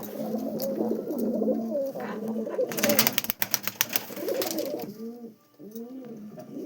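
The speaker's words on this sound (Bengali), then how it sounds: "এই দেখুন টেডি পায়রা আছে," Teddy pigeons coo in a steady, close series of soft rolling calls, with a burst of wing flapping partway through and no talk.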